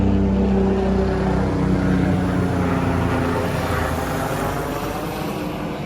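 A steady low mechanical drone with rhythmic rotor-like pulsing, like a helicopter passing overhead, holding strong throughout and fading slightly at the end.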